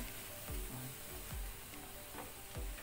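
Mixed vegetables with frozen and canned whole kernel corn stirred into a simmering chicken casserole, a steady soft sizzle with several low scraping strokes of the spoon at a regular pace, close and alone without voices.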